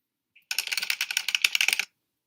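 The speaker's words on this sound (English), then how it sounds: "the little typewriter thing, and the sound effect" A brief burst of rapid typewriter-style key clicks from a video intro, a dense fast run of crisp taps lasting about a second and a half, close and fairly loud, with silence on either side.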